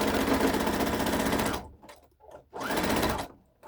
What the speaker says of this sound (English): I'm just going to zigzag and going back.